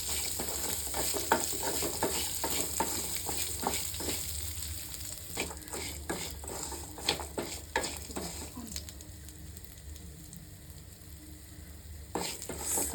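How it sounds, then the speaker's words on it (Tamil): Grated coconut roasting in a pan until it browns, a soft steady sizzle broken by repeated scraping strokes of a spoon against the metal, close and fairly quiet, with no one speaking. "இந்த தேங்காய்லாம் கொஞ்சம் ப்ரௌன் ஆகிற வரைக்கும் நம்ம வறுத்தோம்னா போதும்."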